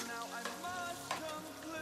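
Biryani ingredients fry in a pan with a steady close sizzle and a couple of soft stirring scrapes, and no voices.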